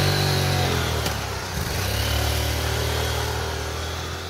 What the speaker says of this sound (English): accelerate the motorcycle out of the intersection